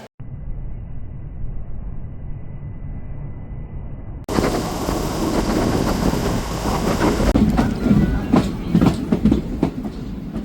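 A passenger train running: a muffled, steady low rumble at first, then a sudden louder roar with clattering wheels and rhythmic clicks over the rails.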